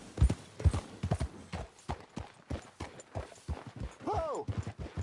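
Horse hooves clip-clop at a steady gallop in Red Dead Redemption 2, rhythmic and fairly close, with a short whinny partway through and some talking over the hoofbeats.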